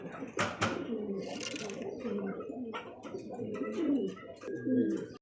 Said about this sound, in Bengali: দর্শক যাকে বলা হয় ব্ল্যাকলেস শাটিন কবুতর